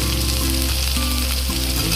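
Chopped medium tomato with a little salt sizzles and fries in a hot pan for an egg and masoor dal dish, a loud, steady crackle with faint stirring scrapes.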